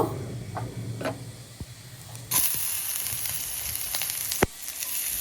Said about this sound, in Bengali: প্রথমে আমি কড়াইতে তেল দিয়ে তারপর এখানে একটু পেঁয়াজ কুচি দিয়ে দিব